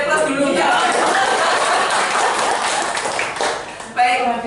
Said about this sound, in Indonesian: Beri aplaus dulu ya.